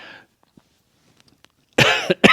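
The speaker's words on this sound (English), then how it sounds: "I just had to cough." Two sharp, close coughs near the end after a brief vocal sound and near silence.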